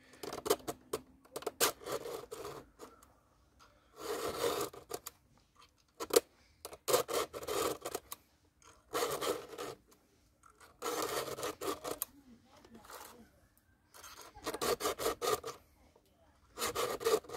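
A hand file sharpening a chainsaw chain, rhythmic bursts of rasping strokes in short repeated groups separated by quiet pauses, close and fairly faint.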